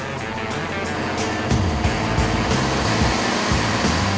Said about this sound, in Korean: 일이 끝날 때까지 단 1시간도 꺼지지 않는 엔진의 소음은 엄청나다